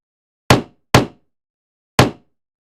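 Three sharp knocks on a house door, two in quick succession and then a third after a pause, loud and close with no voices.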